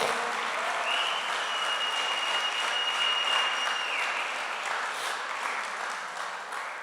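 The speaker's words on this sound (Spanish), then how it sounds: "Dele un aplauso al Señor" A church congregation claps together, sustained, even applause from a crowd filling the room, holding steady before easing slightly at the end.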